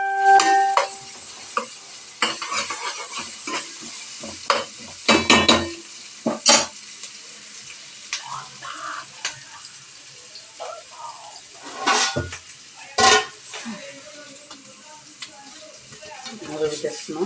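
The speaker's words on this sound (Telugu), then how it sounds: "కొద్దిగా కలర్ వచ్చేదాకా మనం వేగాలి ఇది" Food frying in a pan until it browns, a low sizzle under intermittent clanks and scrapes of a utensil stirring, with bursts of nearby activity and speech at times.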